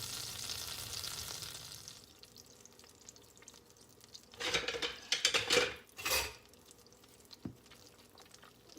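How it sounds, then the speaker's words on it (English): Butter and brown sugar melting together in a pan for cracker toffee: a soft hiss at first, then bursts of louder sizzling and scraping of a utensil against the pan, with no one speaking. "the first thing you're going to do is melt your butter and your brown sugar together"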